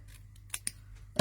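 Scissors snip through card stock during card making, with two light, separate cuts followed by a sharper, louder snip, close up in a quiet room.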